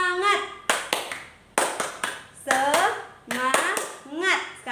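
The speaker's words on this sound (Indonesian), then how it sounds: "mari kita tepuk semangat" A class of young children claps a rhythmic spirit cheer in bursts of sharp claps, with children's voices chanting between the claps.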